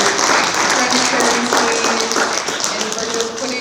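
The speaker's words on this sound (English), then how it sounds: "can we get one more round of applause for all of our candidates" Audience at a tribal community candidate forum in Ketchikan applauds the election candidates, loud clapping mixed with voices and cheering from the room.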